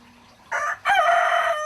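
A pet chicken, a fancy breed kept indoors, crows loudly and close by: a short first note, a brief gap, then a long drawn-out call.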